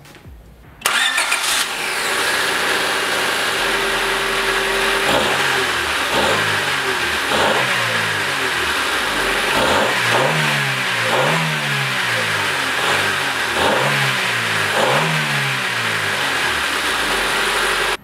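A 1995 Honda Civic engine with its factory intake box starts, then idles and is revved repeatedly in sharp bursts, each rising and falling, loud and close with no talking.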